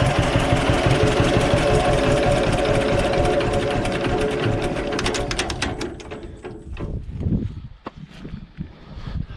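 A John Deere B tractor engine chugs loudly at close range in a steady, rapid pulsing idle, then winds down and falls silent about two-thirds of the way through, leaving only faint background sounds.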